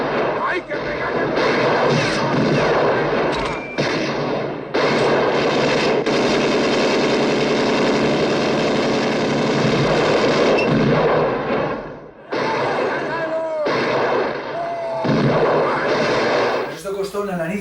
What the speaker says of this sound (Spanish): un gran tiroteo que hay en el final